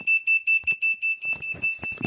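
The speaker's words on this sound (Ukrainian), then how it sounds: "І коли я від'єдную, вона перестає пищати." A FOXSUR pulse battery charger gives a loud electronic error beep for reversed polarity, in quick, evenly spaced pulses, about four per second, with some rustling and handling noise creeping in toward the end.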